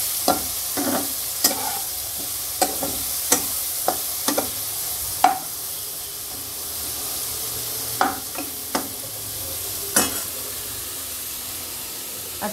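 Ground cumin and coriander powder fried in a pan, a soft continuous sizzle under repeated scraping clicks of a spoon stirring against the pan, close by.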